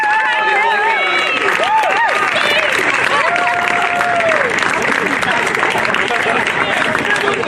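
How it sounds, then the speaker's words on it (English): Crowd applause at an ultimate frisbee finals ceremony, loud sustained clapping and cheering with whistles and shouts layered over it, continuous throughout. "can you spare some applause for the hardest working lady in Ultimate, Christy Laurie."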